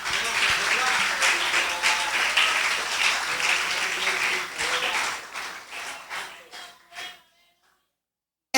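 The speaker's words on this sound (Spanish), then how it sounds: "Dale un aplauso a Dios." A church congregation applauds, a thick, lively wash of clapping with voices mixed in that gradually thins and dies away into near silence before a final sharp sound.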